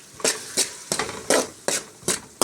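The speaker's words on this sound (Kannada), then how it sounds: "ಈ ರೀತಿ ಮಿಕ್ಸ್ ಮಾಡ್ಕೊಳ್ಳಿ." Gobi manchurian mixed with chili sauce and tomato ketchup, six distinct scraping stir strokes of a spoon against the pan at a steady rhythm, close and moderately quiet, with a soft sizzle between strokes.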